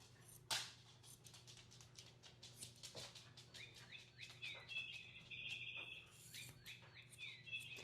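A small cat toy that dogs play with gives off faint electronic birdie chirps, a quick run of tweets in the middle over soft rustling and a sharp tap near the start.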